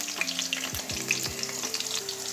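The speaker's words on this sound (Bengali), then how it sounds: "আর একটু আলুটা ভেজে নিই" New potatoes frying in a pan with oil, a steady close sizzle with crackles and brief stirring scrapes, no voices.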